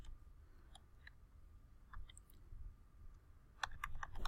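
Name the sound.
typing an ISBN number on a computer keyboard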